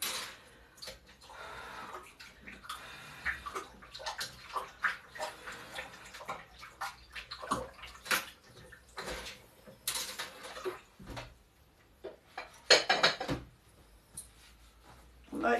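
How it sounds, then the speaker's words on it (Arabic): Hands are washed under running tap water in a home kitchen while a homemade skin-lightening cream is prepared, giving irregular splashing and gushing bursts that rise and fall over about fifteen seconds. "اغسل ايدياتي بس."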